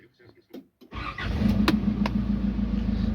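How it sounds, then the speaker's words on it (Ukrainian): A few quiet clicks and a voice, then the 3.0 diesel engine of a 2007 Nissan Patrol automatic cranks and fires up, settling into a loud steady rumble close by. "Так, заводимо автомобіль."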